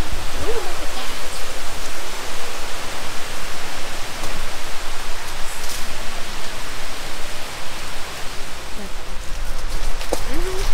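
Water pours steadily from a waterfall inside a show cave at Top of the Rock in Branson, Missouri, a broad, continuous rushing wash that fills the space, with brief voices now and then.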